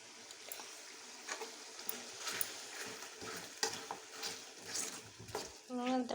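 Chicken and onions fry in oil in a pot, giving a steady low sizzle with scraping stir strokes and light clinks of a utensil against metal. Fairly quiet and continuous, close up, with no voices.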